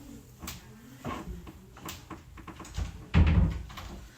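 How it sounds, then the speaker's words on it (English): A door shuts indoors, with a few soft knocks and rattles building to a solid, heavy thud near the end. "I'm gonna go ahead and shut the door."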